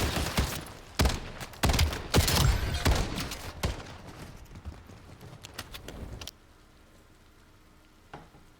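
Pistol shots ring out in a sniper-tournament first-person shooter match, a rapid series of sharp, loud cracks in bursts that thin out into a few scattered shots and then quiet.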